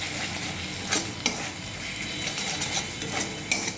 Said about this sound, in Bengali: আর দেবো হচ্ছে নুন, এবার দিয়ে মিশ্রণটাকে মিশিয়ে নেব।